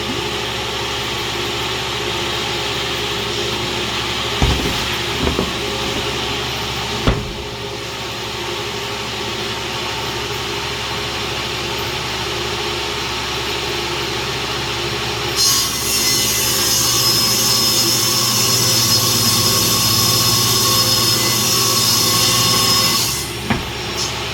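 A table saw cuts wood in a small workshop, its motor giving a continuous loud drone with a few sharp knocks, then a louder, harsher stretch of cutting before the blade settles.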